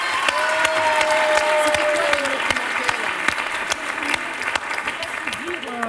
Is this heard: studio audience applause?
yes